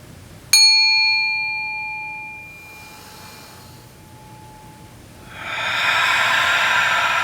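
A single bell is struck once during a ritual demonstration in a lecture, a bright clear ring with high overtones that decays slowly over a few seconds, followed by a soft rushing breath-like swell of the room.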